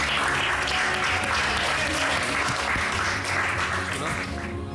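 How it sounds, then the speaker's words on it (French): A small audience claps steadily after a card trick in which a Joker turns into the seven of spades, the applause dense and fairly close, fading slightly toward the end. "Je crois qu'on peut applaudir Marine, s'il vous plaît."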